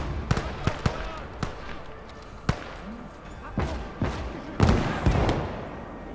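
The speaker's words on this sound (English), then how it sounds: "that was a bit of a waste of an artillery call in" Artillery shells burst in Call to Arms: Gates of Hell, sending a string of sharp distant booms and thuds at uneven intervals over quiet battlefield ambience.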